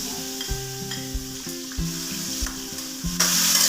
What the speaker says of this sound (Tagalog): Isa muna natin bawang sibuyas na.